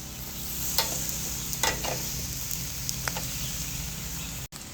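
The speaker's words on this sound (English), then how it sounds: "Hear the sizzle?" Food sizzles and crackles steadily while frying in a pan during a Sunday dinner cook, with a few sharper pops and spatters over the continuous hiss; no one speaks.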